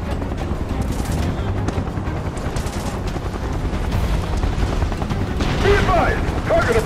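Gunfire in the Final Fantasy VII Remake video game, sustained rapid automatic bursts with booms mixed in, continuous and loud throughout, under overlapping voices shouting.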